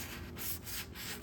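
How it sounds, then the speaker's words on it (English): A sanding sponge rubs back and forth on wood, a close, steady rasping scrub in short strokes. "I'm going to use the sanding sponge and really"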